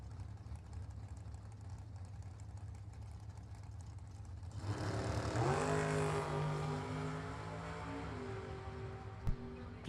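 Drag racing launch of an Oldsmobile Cutlass door slammer against a rear-engine dragster: a low idling rumble suddenly erupts into a loud, sustained engine roar that stays strong and slowly eases off.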